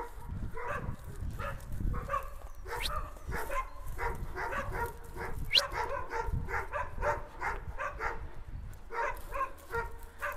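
A black female Anatolian shepherd dog growls and grumbles in low, rumbling bursts, close by, with faint yips and whines mixed in over a steady outdoor background.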